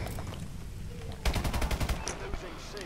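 A rapid string of about eight gunshots from a slow-firing gun in Call of Duty: Advanced Warfare rattles out close and fairly loud over steady background game noise, followed by a couple of fainter distant shots.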